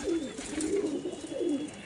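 Pigeons in a loft coo in repeated low, rolling phrases, close and fairly loud, with a brief pause between calls.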